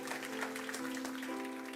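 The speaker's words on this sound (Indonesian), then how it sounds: "Berikan tepuk tangan bagi Tuhan Yesus Kristus." Applause from a church congregation during an Indonesian-language sermon, a steady clatter of clapping with a sustained tone beneath it, filling the space at moderate loudness.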